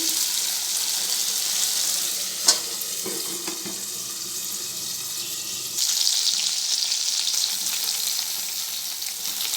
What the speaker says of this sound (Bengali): ঢেঁড়স ঝালটা প্রথমে ঢেঁড়সটা ভেজে নিচ্ছি